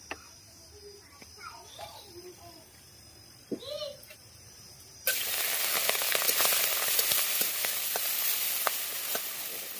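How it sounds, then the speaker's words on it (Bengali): Shrimp heads hit hot oil with a sudden loud, steady sizzle that starts midway and holds to the end, after a quieter stretch of faint household background sounds. "তো চলুন আগে চিংড়ি মাছের মাথাগুলো ভেজে নিই।"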